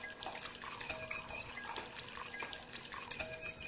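Chicken stock is poured into a beaten egg and lemon mixture and stirred, a soft continuous trickle of liquid with faint clinks, quiet and close.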